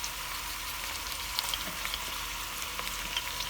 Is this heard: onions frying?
yes